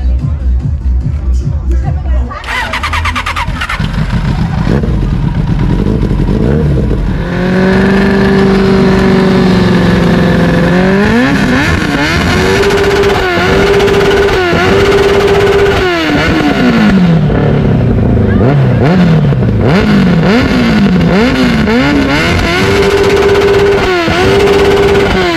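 A damaged motorcycle engine revs repeatedly, its pitch climbing and dropping in loud surges, while a crowd murmurs in the background at a motor meet in Ringe, Denmark.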